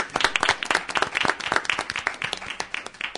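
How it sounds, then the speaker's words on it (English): A room full of people at a city council meeting applauds, dense clapping sustained for a few seconds at an even level. "I'd like to have a round of applause for that gentleman."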